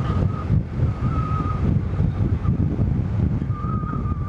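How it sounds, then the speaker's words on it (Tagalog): Strong wind buffets the microphone in a steady low roar while riding a Honda Navi motorbike, gusting unevenly, with a faint tone drifting in and out beneath it. "Ang hangin."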